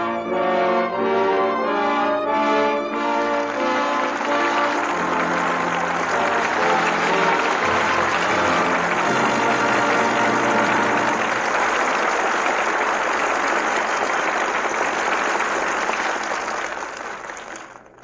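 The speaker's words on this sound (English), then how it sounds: "With that well-deserved applause," Studio audience applause for a Lux Radio Theater broadcast of Destry Rides Again fills the room, loud and sustained, following a few closing bars of orchestral music and fading at the very end.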